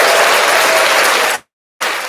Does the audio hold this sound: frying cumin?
no